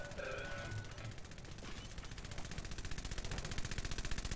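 Rapid automatic gunfire from the Fallout 4 video game, a dense run of repeated shots building toward the end, loud and steady with no talk over it.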